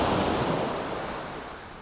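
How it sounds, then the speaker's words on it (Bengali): Large ocean waves break on the shore at the Futtsu end of Tokyo Bay on a calm day, a loud, continuous, close roar of surf that slowly eases. "সমুদ্রের গর্জন ভেসে আসতেছে আজকে তেমন বাতাস নেই কিন্তু সমুদ্রের বড় বড় ঢেউ তীরে আশ্রয় পড়তেছে"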